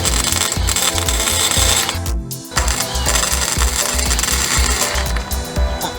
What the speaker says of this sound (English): Using a Chicago Electric MIG welder wife found for me at an auction